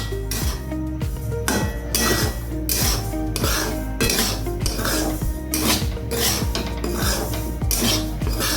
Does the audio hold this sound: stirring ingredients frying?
yes